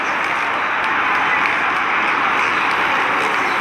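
Stadium crowd at an Indianapolis supercross main event roars continuously, a dense steady wash of cheering throughout with no clear breaks.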